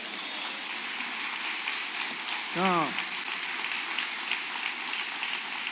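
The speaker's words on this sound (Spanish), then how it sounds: "Demos un aplauso fuerte al Señor." A church congregation applauds loudly, a dense, steady wash of clapping that runs throughout, with a brief voice calling out partway through.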